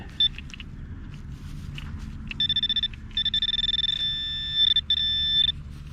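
Electronic beeping tones from a metal detector searching a historic 1781 American landmark site, several short pips then longer sustained warbling signals over a low rumbling background.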